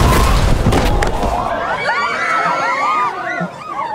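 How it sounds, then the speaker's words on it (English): Fireworks bursting in a TV drama finale: an opening flurry of loud booms and thuds gives way to a dense, continuous crackle and whistling sparkle, with a faint crowd-like murmur underneath. "Look, fireworks!"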